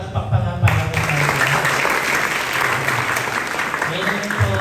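Applause from the audience at a youth Friday worship night in a church, a broad steady wash of clapping lasting several seconds, with voices and low musical tones underneath.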